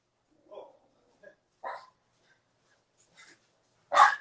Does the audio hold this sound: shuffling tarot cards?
no